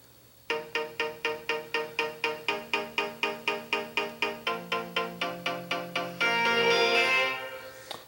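Synthesized music from FL Studio Mobile: a steady run of evenly spaced, bright plucked chord stabs over a sustained bass note, ending in a denser swelling held chord that fades out.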